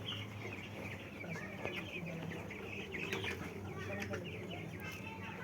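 Broiler chickens clucking in their pen, a continuous low chorus of soft clucks and murmurs at moderate distance, with talk over it.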